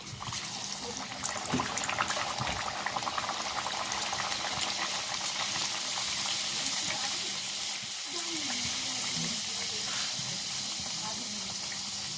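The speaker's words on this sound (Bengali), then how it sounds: "তেলটা গরম হয়ে গেছে ওর মধ্যে আমি কচুরিগুলো ছাড়ছি" Peas kachori drop into hot oil in a pan, giving a steady, dense sizzle and bubbling that holds throughout at a moderate level, with a little background noise.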